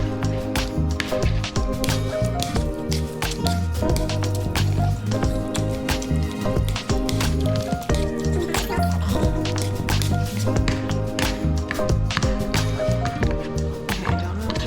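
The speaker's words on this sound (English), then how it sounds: "Blackberries are rinsed. I'm gonna go ahead and mash them first." Rinsed blackberries being mashed for jam give off wet, squishy squelches and dripping liquid sounds, repeating steadily and close up for the whole stretch with no pause.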